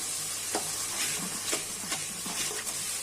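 Spice paste frying in a pan is stirred with a utensil, giving a continuous sizzle broken by about half a dozen sharp scraping strokes at an uneven rhythm, close and fairly loud.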